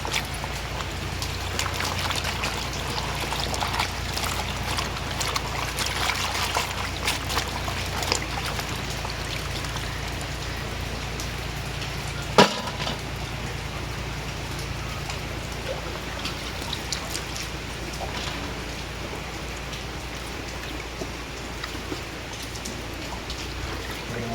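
Water pours and splashes steadily while something is rinsed a second time to wash away soil, a continuous close trickling and spattering with one sharp knock partway through.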